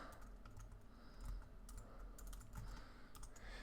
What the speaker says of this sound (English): So I'll type in,